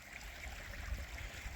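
A small, low-running stream flows steadily nearby outdoors, a soft continuous trickle and gurgle with no voices over it.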